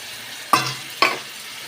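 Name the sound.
sautéing chilli and cumin spices in oil for fish curry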